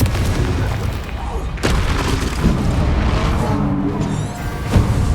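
Confringo blasting spells exploding in Hogwarts Legacy combat: loud booming blasts, two sharp hits standing out, amid continuous roaring battle noise with a voice heard faintly.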